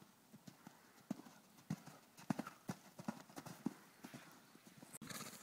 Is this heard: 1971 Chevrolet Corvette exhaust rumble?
no